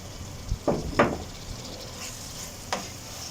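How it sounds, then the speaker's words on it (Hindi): Okra frying in achari masala with tamarind pulp and ground raw mango: a soft background sizzle broken by a few close scraping stirs, two together early and one later, with no speech. "1 से 2 मिनट तक इसे हम भून लेंगे"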